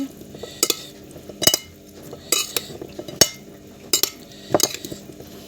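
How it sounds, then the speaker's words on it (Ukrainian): A spoon scrapes and clinks against a bowl in irregular bursts while a food mixture is stirred before being packed into a jar, with quiet pauses between strokes. "хорошенько перемішаю."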